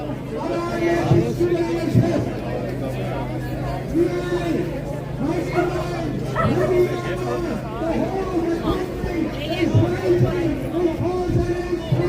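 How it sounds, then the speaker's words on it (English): Crowd gathering at an outdoor protest in Newry town, a steady babble of many overlapping voices chattering close and far, continuous throughout with a low hum beneath. "The crowd is gathering now."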